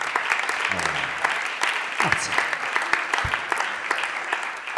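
An audience at an Italian comedy show breaks into steady, dense applause that carries through the whole stretch, with a performer briefly speaking over it.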